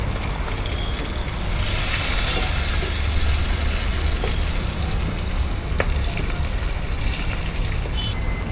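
Onions and curry leaves fry in hot oil for a prawn roast, giving a dense, steady sizzle with faint stirring scrapes, close and continuous, with no talking.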